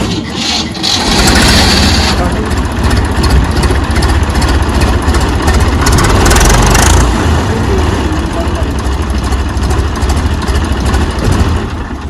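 A heavy tractor engine chugs loudly and steadily up close, running continuously throughout, with voices partly masked under the rumble.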